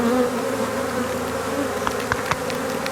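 Swarming honeybees buzz steadily around a beehive as the colony returns inside, a dense close-up drone with a few brief louder passes of individual bees near the end.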